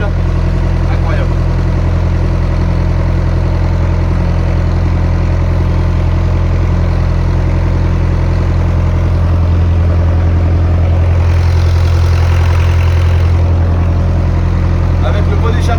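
A BMW 530d diesel engine idling with its exhaust, a loud, close, steady low rumble that thickens for a few seconds midway before settling back, with someone talking faintly under it.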